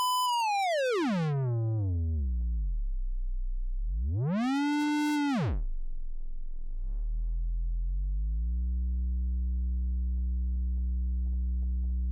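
Delay feedback tone from the Fruity Delay Free plugin, sweeping sharply down in pitch, jumping briefly back up, then sliding down again and settling into a low steady drone, smooth and synthetic with no voices.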